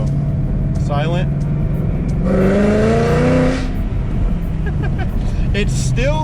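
A straight-piped Ford Mustang GT in quiet mode revs once, its exhaust valves opening, so a rising engine note swells over a low idle rumble and then settles back. Someone talks close by before and after the rev.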